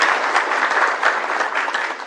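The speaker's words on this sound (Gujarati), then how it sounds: "સૌ તાળીઓના ગગડાટથી" An audience at a Swami Sachchidanand gathering breaks into loud, dense applause, a sustained wash of many hands clapping together close by, with no voices standing out.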